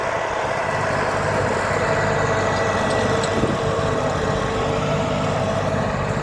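A tractor (a model 150) runs steadily while prepared to work with a Taurus 3.4 disc harrow with 660 mm discs in a wheat stubble field; a loud, continuous engine drone holds for several seconds with no talking.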